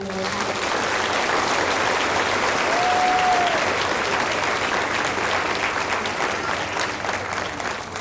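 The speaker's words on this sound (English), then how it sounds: "please join me in a huge round of applause" A school board meeting audience applauds honored students, a sustained, even wash of clapping from a large crowd lasting the whole stretch, with no break or speech.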